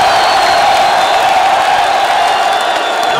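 A large, growing crowd at Moise Katumbi's procession through a town square in Katanga, a dense, loud roar of many voices and cheering holding steady without a break.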